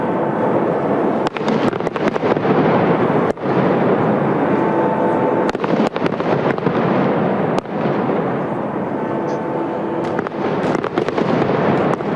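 A steady barrage of New Year fireworks fills the air with dense crackling and rumbling, punctuated by sharp, loud bangs at irregular intervals, while Big Ben rings.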